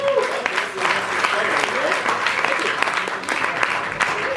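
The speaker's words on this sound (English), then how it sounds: "So enjoy. Give a round of applause." An audience at a talk on transhumanism applauds with steady, dense clapping. It is heard alongside some faint voices in the room.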